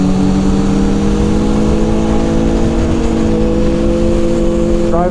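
A race car runs counterclockwise on the Thunderhill West track, its engine droning loud and close, holding a steady pitch before climbing slightly near the end.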